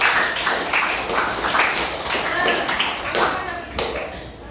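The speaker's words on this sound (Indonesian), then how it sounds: "Tepuk tangan sekali lagi dong." Schoolchildren in a computer class clap their hands together, a dense burst of fairly loud claps lasting several seconds, with some voices mixed in.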